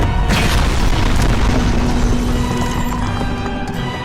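A heavy, loud boom from a missile explosion in an anime fight between Godzilla Earth and Mechagodzilla, a dense rumbling blast that fills the whole moment and slowly fades.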